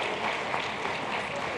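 Audience applause welcoming the President of Guyana at a presidential dialogue forum, a dense steady wash of many hands clapping throughout.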